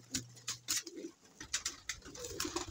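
Hungry pet pigeons coo and flutter close by, with repeated soft calls and scratchy pecking and wing patter in a busy cluster, no voices over them.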